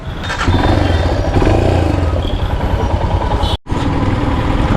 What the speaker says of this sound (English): fire the engine.